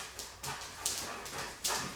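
A Giant Schnauzer puppy whimpers in three short, high-pitched cries, fairly close and alone.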